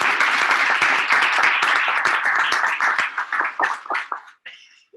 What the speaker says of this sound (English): the first applause is for you.